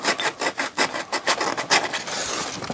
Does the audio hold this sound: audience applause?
no